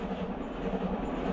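A train rolls past close by outdoors, a loud continuous rumble and roar of wheels and cars filling the whole short stretch with no talking.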